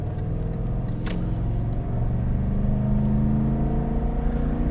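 A 2020 Lexus LX 570 with its 5.7-liter V8 pulls hard while towing an enclosed trailer, a loud steady engine roar and rising drone heard from inside the cabin, with road rumble underneath and no talking.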